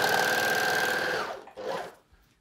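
A Juki MO-104DN overlocker runs fast and steady through fabric with a loud whirring motor hum, then slows and stops, revs briefly once more and falls quiet.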